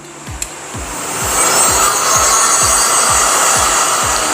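A hot air blower roars steadily and close while heating a PVC sheet to soften it, its pitch rising slightly after a second, with faint rhythmic rubbing or creaking underneath.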